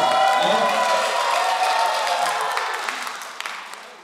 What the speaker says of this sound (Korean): 다시 한번 더 박수 한번 다시 한번 부탁드립니다